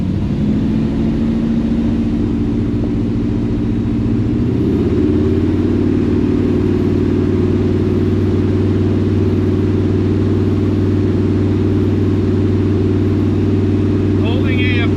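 Carbureted-to-EFI converted engine running loud and close, its note rising and steadying at higher RPM after a few seconds and holding a sustained drone.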